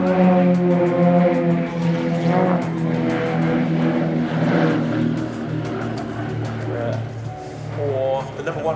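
Engine drone from Extra 330LX propeller aerobatic aircraft of the Royal Jordanian Falcons flying a close-formation slow roll at RIAT 2024, a steady loud whine running throughout beneath a commentator's continuous voice.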